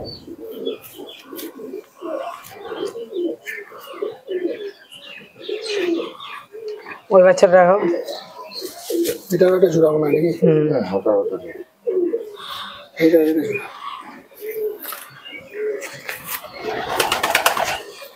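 Pakistani Teddy tournament flying pigeons coo and chirp intermittently in a loft, mostly under close conversation between people, with brief bursts of bird calls standing out between the voices.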